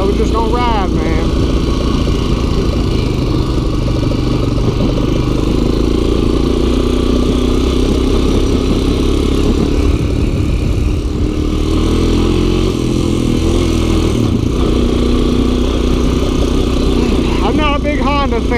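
A Honda Fourtrax 300 ATV engine runs loud and close throughout while mudding before a storm, a continuous rumbling drone whose pitch rises and falls with throttle.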